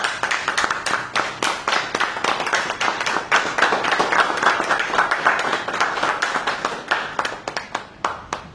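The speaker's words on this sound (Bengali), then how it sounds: "তালি হয়ে যাক।" A small group claps by hand at the grand opening of a Honda X Blade FI ABS 2025 motorcycle showroom, brisk steady applause close up for several seconds that thins out toward the end.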